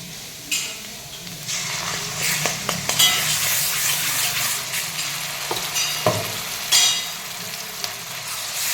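Masala sizzles and fries in hot oil in a kadhai over a high flame for mutton rassa, a steady crackle broken by clinks and scrapes of stirring, with no talking.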